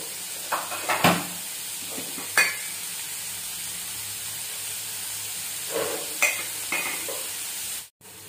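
Onions sautéing with turmeric and salt in a pan for a South Indian breakfast chutney, giving a soft steady sizzle with a few brief stirring scrapes and clinks, close and fairly quiet.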